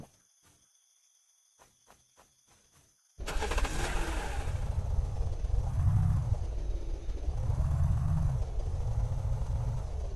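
A car engine in the video game Unturned starts abruptly after a few quiet seconds and rumbles loudly and steadily, its low drone swelling and easing in slow waves.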